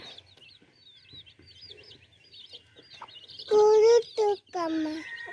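Hen clucking inside a coop, a run of short close clucks followed by several louder, drawn-out squawking calls near the end, with faint background voices.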